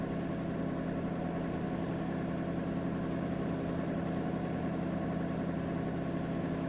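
A luxury speedboat engine in Microsoft Flight Simulator 2020 hums as a steady, even low drone, continuous and moderately loud with no talking over it.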